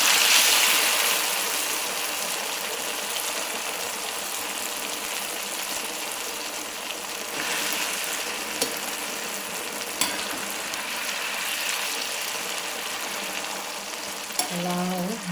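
Ground amla gooseberry sautéing in a hot pan for pickle, a continuous loud sizzle with occasional stirring scrapes and small clinks, steady throughout with no talking.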